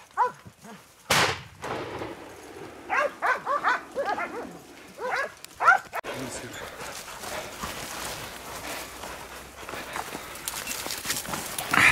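Hunting dogs bark and yip repeatedly during a wild boar hunt in the Turkish countryside, an energetic run of overlapping barks with rustling footsteps and a sharp bang-like crack, voices nearby.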